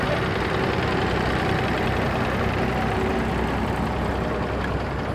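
A David Brown 135 tractor engine runs at a tractor show with a steady low rumble, loud and close, holding an even drone throughout.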